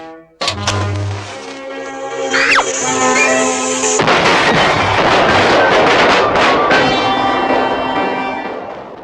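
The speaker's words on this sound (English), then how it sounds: "Now, light the fuse and I'll blast off." Cartoon skyrocket for a penguin character: a fuse is lit with a brief hiss and rising whistle, then a loud roaring blast rumbles on steadily for several seconds, with no voices.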